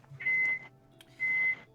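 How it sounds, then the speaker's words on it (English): A microwave oven beeps twice, two clean evenly pitched tones with a short pause between them, fairly faint over a quiet room hum. "do you have microwave beeping?"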